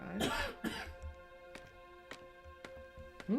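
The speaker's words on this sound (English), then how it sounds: "I wonder if he's coughing because it's chilly." Two rough coughs up front, then a few fainter throaty coughs spaced out over a quiet, tonal background hum, from a sleeping character in modded Minecraft.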